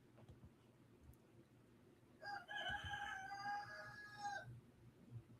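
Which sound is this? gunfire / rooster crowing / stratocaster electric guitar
rooster crowing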